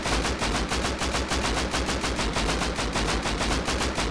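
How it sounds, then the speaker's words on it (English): Rapid sustained automatic fire from an AK rifle shooting regular rounds in the game Rust, evenly spaced shots in a continuous burst, loud and close with no talking. "345 durability, shooting regular AK rounds."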